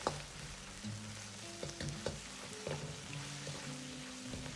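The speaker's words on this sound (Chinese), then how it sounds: "下入切好的猪肉煸炒" Sliced pork stir-fried in hot vegetable oil in a wok over medium heat, a steady sizzle with scraping spatula strokes and light clinks, close and moderately quiet, no voices.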